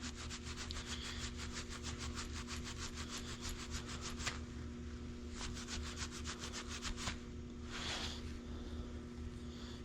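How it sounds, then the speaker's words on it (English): A Scotch-Brite pad rubs a refaced rocker pad from a 12-valve Cummins engine in a steady back-and-forth scrubbing rhythm, close and moderately quiet, with no talk. "Just take your Scotch-Brite there again."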